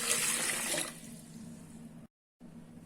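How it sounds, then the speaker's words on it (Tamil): Water is poured into a mixer jar while making pink lemon juice, a brief bright splashing gush that fades into a quieter trickle and a low hum, with a short silent gap. "இதில் கொஞ்சமாக தண்ணி ஊற்றி அரைச்சிக்கிறேன் நான்."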